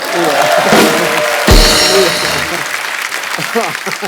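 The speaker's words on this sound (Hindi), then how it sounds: "जोरदार तालियां।" Loud studio audience applause on a comedy talk show, a burst of clapping and crowd noise with voices talking and laughing through it, a heavy thump midway.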